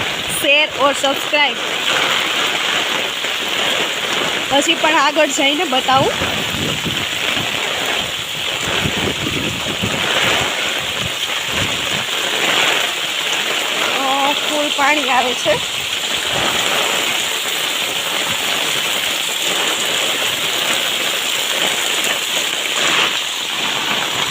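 Heavy rain roars steadily throughout in Ranpar, with a voice speaking briefly under the downpour.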